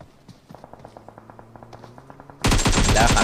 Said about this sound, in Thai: ได้ข่าวว่ายิงกันอยู่ครับ